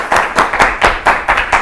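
A studio audience claps for two students on a children's TV show, with about half a dozen loud, close, evenly spaced claps in quick rhythm.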